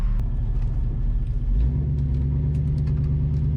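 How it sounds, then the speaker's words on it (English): A carbureted 1965 Ford Mustang accelerates from a rolling start, its deep engine rumble loud and steady, then rising in pitch about halfway through as it pulls harder, with no speech over it. "From a rolling start, just regular drive. It's got some good pull, you know, for something that's carbureted."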